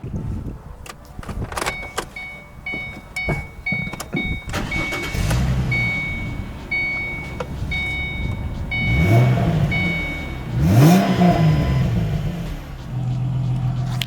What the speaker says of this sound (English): Let's get a cold start on this.